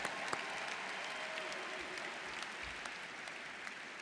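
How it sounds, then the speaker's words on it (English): Audience applause at a university ring ceremony, a steady dense wash of clapping at moderate volume that carries on throughout. "Let's give Chris a round of applause for reading all those names one more time."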